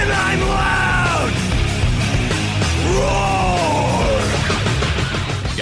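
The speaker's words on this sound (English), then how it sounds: "I'm yelling and screaming and I'm loud" Loud heavy-metal-style yelling and screaming, with sustained, strained shouts over dense, distorted music that stays at full volume throughout.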